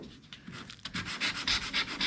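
Steady rhythmic sanding strokes on a Honda CRX Si body panel with deep scratches, close up, with a scratchy hiss that grows louder and more regular toward the end.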